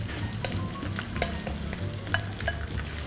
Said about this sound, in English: And then stir all together so it's all coated.